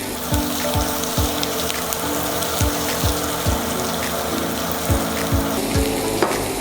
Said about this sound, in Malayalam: ഇത് നന്നായി വഴഞ്ഞു വരുമ്പോൾ